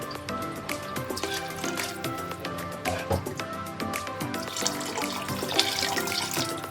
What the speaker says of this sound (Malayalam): അരി മുങ്ങിക്കിടക്കുന്ന രീതിയിലായിരിക്കണം വെള്ളം ഒഴിച്ച് കൊടുക്കേണ്ടത്